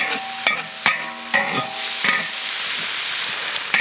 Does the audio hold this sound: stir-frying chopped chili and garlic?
yes